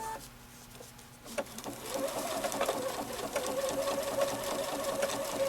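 A sewing machine stitching curves for machine smocking on a dress, starting after a brief quiet moment and then running in a steady, fast, close mechanical whir with needle clatter, needle kept down.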